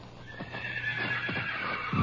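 A horse whinnies loudly in a sustained, wavering cry over several hoof clip-clops in an old-time radio Western drama about the Texas Rangers, set at night with no voices.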